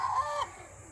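Farm chickens cluck in a short, fairly loud burst that drops off partway through, leaving a quieter background.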